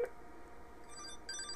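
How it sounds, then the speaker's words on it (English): A cell phone rings with short electronic tones, faint and close, amid a quiet room during an Avaya analog trunk call test. "There's my cell phone."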